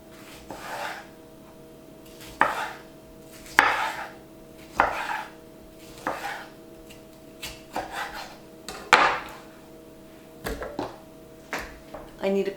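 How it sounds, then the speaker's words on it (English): A knife chops a tomato on a cutting board in a home kitchen, about a dozen distinct, uneven thuds and scrapes over several seconds against a faint steady hum. "And then we're just going to rough chop this tomato."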